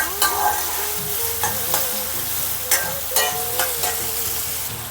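Onion frying in oil in a pan, a steady close sizzle with light spoon-stirring ticks recurring through it, no voices.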